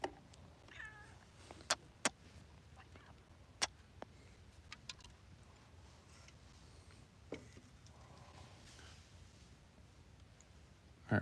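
A house cat meowing in a few soft, scattered calls amid sharp intermittent clicks and taps, fairly quiet and close, with no talking.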